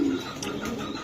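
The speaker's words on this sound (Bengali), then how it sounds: "এটা কি কবুতর এগুলা?" Racing pigeons, grizzle-coloured club racer birds, give soft low throaty coos nearby, a brief murmuring call over light background noise.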